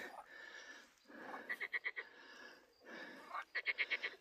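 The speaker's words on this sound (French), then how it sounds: "Les grenouilles chantent encore" Frogs croak in breeding season along a rural stretch of the Compostela pilgrimage route, two quick bursts of five or six rhythmic pulsing croaks each, fairly clear over a soft background chorus.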